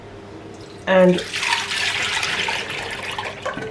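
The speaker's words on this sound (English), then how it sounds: "Here's all that strained cooking water" Strained cooking water from boiled oranges pours for marmalade, a steady splashing stream that starts abruptly and continues close by, with a brief word spoken over it.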